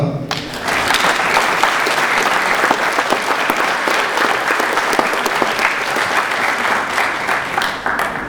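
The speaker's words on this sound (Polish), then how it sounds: "Ja chciałbym poprosić o wielkie brawa dla niego." A large audience at a 50th-anniversary ceremony gives a big round of applause, dense and loud from start to finish, with a few voices faintly mixed into the clapping.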